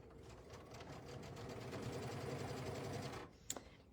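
Sewing machine stitching quarter-inch seams while piecing a quilt, a steady close rapid whir for about three seconds before stopping, followed by a brief click.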